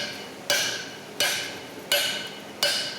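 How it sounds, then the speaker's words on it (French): Blacksmith's hammer striking iron on an anvil during forging, four sharp ringing blows at an even, unhurried pace, each leaving a bright metallic ring that decays before the next strike. "tes coups de marteau sont peut-être pas suffisamment précis"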